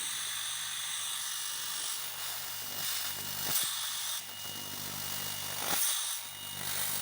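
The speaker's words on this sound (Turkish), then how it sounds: "Ve motor çalıştı." Refrigerator compressor motor started directly on 220 V mains, giving a steady mechanical whir and hiss that runs throughout at moderate level with a few brief surges.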